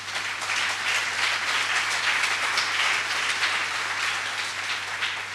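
A church congregation applauds, a dense, even wash of clapping that stays loud and sustained throughout, with no one speaking over it.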